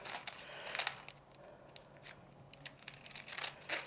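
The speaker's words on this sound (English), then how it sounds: "I'm cutting on the black lines, and I shall grab my large Echidna scissors" Large Echidna sewing scissors snip through material along drawn lines, a run of crisp, quiet cutting clicks and rustles at close range, irregularly spaced with short pauses between strokes.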